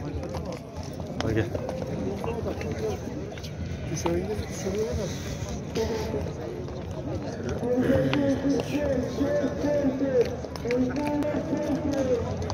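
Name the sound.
horses' hooves clip-clopping at a horse market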